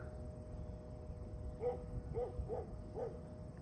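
A small dog barks four times in quick succession, faint and distant against a steady low background hum.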